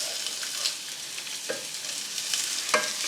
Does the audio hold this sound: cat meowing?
no